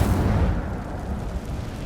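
The Incendio fire spell cast in Hogwarts Legacy, a loud, close, rumbling whoosh of flame with a heavy low boom at the start that holds steady, with no speech.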